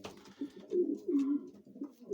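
Domestic pigeons coo in a loft kept for widowhood-method racing, soft low rolling calls repeating in overlapping bursts at moderate distance, with no talking.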